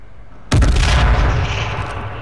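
A frag grenade explosion in H1Z1, a sudden loud close boom with a heavy low-end rumble that trails off into a long, noisy decay.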